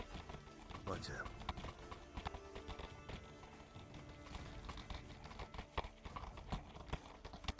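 Horses pulling wagons clip-clop steadily at a brisk rhythm, with muffled voices and movement mixed in underneath.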